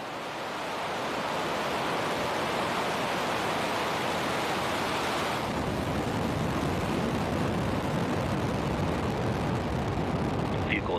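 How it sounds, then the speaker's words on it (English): SpaceX Falcon 9 rocket lifting off carrying 20 Eutelsat OneWeb satellites to low Earth orbit: a loud, steady broadband roar that swells within the first second and holds continuously, dense and rumbling like rushing water. "And liftoff of Falcon 9"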